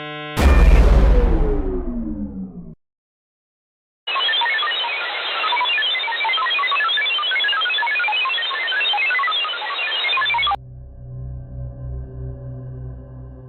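An unused EMP device grenade effect from the Rec Room game opens with a booming, decaying blast. After a pause comes a sustained bright electric crackle lasting several seconds, which gives way to a lower humming tone.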